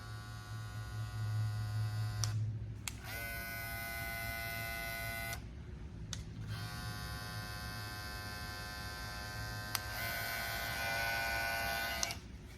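A Babyliss SnapFX cordless hair clipper running with a steady high-pitched motor buzz, cut off and restarted a few times across several seconds over a low background hum.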